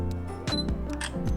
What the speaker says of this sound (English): Did you hear that beep when you half press the shutter?